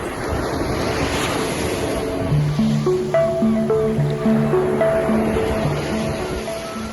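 Black Sea waves wash steadily against the shore amid wind buffeting the microphone, while a few soft melodic tones play faintly underneath.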